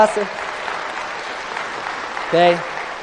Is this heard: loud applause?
yes